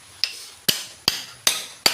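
A wooden wedge being driven tight with a hammer while a ceremonial kavadi platform is built: five sharp, evenly spaced blows ring out close by, roughly every 0.4 seconds, each with a bright woody crack and a quick decay.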